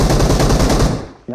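Shotgun fire in the PUBG Mobile game: a loud, close burst of rapid, evenly spaced shots that cuts off abruptly after about a second.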